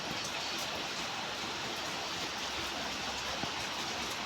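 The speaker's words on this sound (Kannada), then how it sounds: "ಮಳೆ ಐತಿ ನೋಡಿರಿ" Steady outdoor rain falls at night as a soft, even hiss, faint and continuous with no other sounds standing out.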